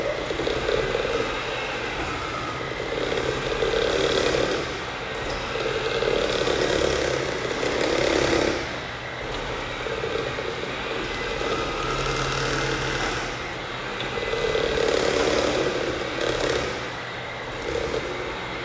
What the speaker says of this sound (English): So now we're going to go ahead and give that a good mix with our hand mixer.